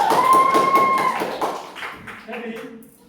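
Classroom clapping hands for a student at the end of a lesson, scattered taps under a sustained tone and background voices, fading out.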